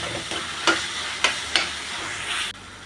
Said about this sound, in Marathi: टोमॅटो पण नरम व्हायला द्यायचं आहे तेलामध्ये त्यासोबत आपण अर्धा चमचा आलं लसूण पेस्ट टाकूया तेलामध्ये व्यवस्थित भाजली जाईल ती